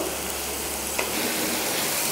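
Chopped onion and garlic frying in oil in a pan, a dense, even sizzle close up with a faint hiss, steady throughout with no talk.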